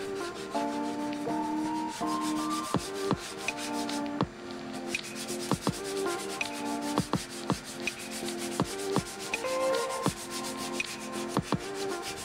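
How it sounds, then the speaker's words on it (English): Foiled surfboard fins being hand sanded, close rhythmic rubbing strokes over twelve seconds with sharp clicks and taps between passes and faint tonal sounds in the background. "Once the fins are foiled, I'll then hand sand them again to help remove any sander marks."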